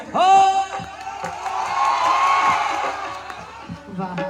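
At a stage show, a crowd whoops, cheers and shouts to welcome a singer, with loud voices rising at the start and a continuous buzz of cheering after.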